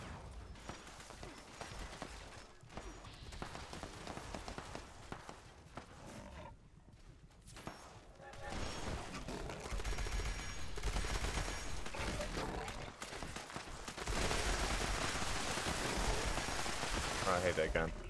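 Bursts of gunfire from the video game Fallout 76 rattle in rapid fusillades, dense and loud through most of the stretch, with a brief lull midway, under excited talk from a player.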